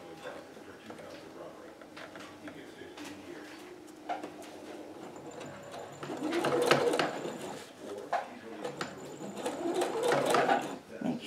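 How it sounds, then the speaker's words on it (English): A home sewing machine stitches a jacket hood into a collar, running in short, moderate-volume bursts that grow louder later, alongside soft cooing from doves in the background. "Make sure you lock your stitches by going in reverse. And then just sew straight along."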